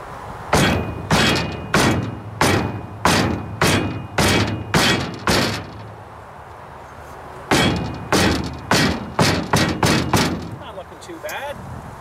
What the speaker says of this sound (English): Maybe I'll just get the hammer.